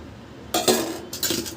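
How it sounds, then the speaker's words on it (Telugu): Two quick bursts of a metal spoon clinking and scraping in a bowl as sugar syrup with cardamom powder is stirred for gulab jamun, close and fairly loud with a quiet pause between. "వేసుకొని ఒకసారి బాగా కలుపుకుందాం."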